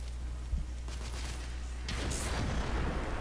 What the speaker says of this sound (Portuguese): Tem alguém atirando umas bombas aqui.